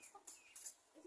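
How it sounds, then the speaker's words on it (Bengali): A large pet rooster clucks faintly in a few short, soft calls, heard from a little distance in a quiet setting. "এই মুরগিটা, এটাও মরগ"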